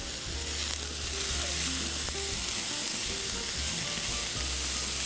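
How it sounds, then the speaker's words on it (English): Red onions sautéing in a pan give a steady, even sizzle that runs unbroken throughout, close and moderately loud, with no voices. "I'm going to saute them and I'm going to add them directly to the farro"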